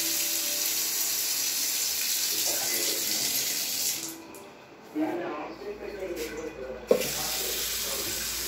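A bathroom tap runs in a Hyderabad home plumbing job, a steady gushing hiss of water that drops away briefly midway, then resumes amid clatter and someone speaking nearby.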